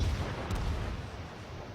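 Cruiser gunfire in World of Warships, including fire from an American St. Louis cruiser, rumbles as low, continuous booming from naval guns with a deep, muffled roar and no voices.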